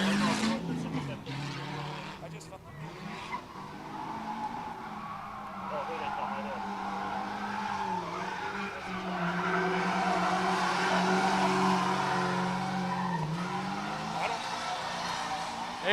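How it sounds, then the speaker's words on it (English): A beater Ford Mustang drag car makes a test-and-tune pass at a drag strip, its engine note droning and rising in pitch at a distance under ongoing commentary. "Kyle Rusty, a nice A to B run in the beater stang."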